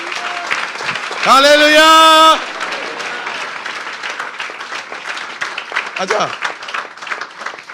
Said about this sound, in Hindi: तालियां बजा दें अपने लिए।